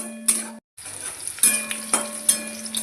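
Soya chunks fry in hot oil in a pan, a soft sizzle broken by sharp clinks of a utensil stirring against the metal, with a brief silent gap near the start.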